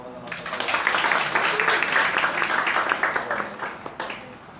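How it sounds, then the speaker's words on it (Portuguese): An audience at a lecture on preventing child suicide claps to welcome the speaker, a sustained, even round of applause that fades out toward the end. "Recebo com uma salva de palmas a nossa palestra."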